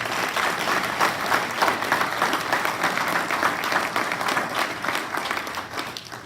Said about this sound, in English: let's give a round of applause for these young men